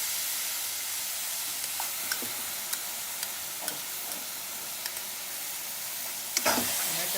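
Tomato puree for paneer butter masala sizzles and fries steadily in a pan, with a constant hiss and a few soft stirring clicks and scrapes, the loudest stirring near the end.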